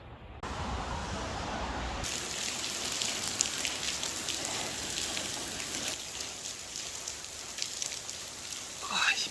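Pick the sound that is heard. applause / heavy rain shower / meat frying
heavy rain shower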